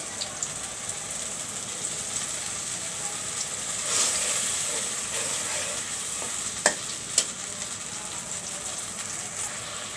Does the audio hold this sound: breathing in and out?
no